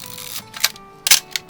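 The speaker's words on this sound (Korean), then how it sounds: "이 셔터 소리도 되게 멋있고요." Nikon FM2 manual film camera firing its shutter: two sharp mechanical clicks close up, a lighter tick before the first and a softer one after the second, with no talking.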